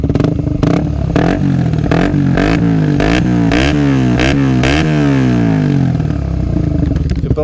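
A Suzuki GSX 125 motorcycle's exhaust, fitted with its baffle, revs repeatedly close by, climbing and falling in steady throttle blips over a continuous engine drone with no talk.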